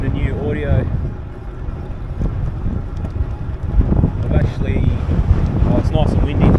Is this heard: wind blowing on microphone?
yes